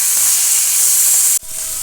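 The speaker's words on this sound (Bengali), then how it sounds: "ইলিশ মাছটা হালকা ভেজে নেব।" Hilsa fish frying lightly in hot oil gives a loud, steady sizzle with bright hissing, briefly cut off near the end and then resuming at a slightly lower level.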